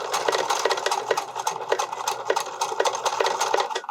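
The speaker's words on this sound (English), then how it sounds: "And very carefully sew across everything. My machine is groaning at me for it." A home sewing machine labours as it stitches across underwire on a bodysuit, a loud continuous mechanical whir with rapid needle clatter and a strained, uneven drone, heard alone without talk.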